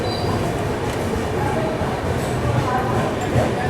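The Tamil Nadu Express, train 12622, rolls into platform 1 at Bhopal Junction with a loud continuous rumble of wheels and wagons, steady and close throughout.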